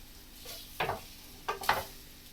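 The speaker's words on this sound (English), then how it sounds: "we call it frying the cabbage because it's in a frying pan and it's with oil" Cabbage and sausage fry in oil in a frying pan, with soft sizzling under a few brief stirring scrapes and rustles, close and fairly quiet.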